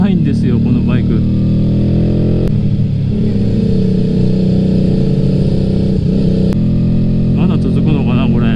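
Motorcycle climbing the winding Irohazaka mountain road in Nikko, a steady close engine drone with shifting pitch as it leans through tight bends, someone talking over it throughout.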